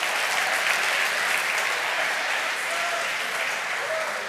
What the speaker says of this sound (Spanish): Los hombres aplauden sin parar.